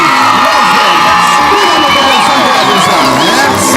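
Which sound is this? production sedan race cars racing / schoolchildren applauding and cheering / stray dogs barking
schoolchildren applauding and cheering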